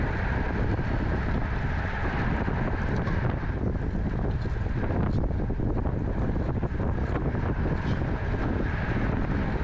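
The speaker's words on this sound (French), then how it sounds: "Donc là, le vent venait de droite" Heavy, continuous wind roar buffeting the microphone during a fast road bicycle race, loud and unbroken throughout with no talking.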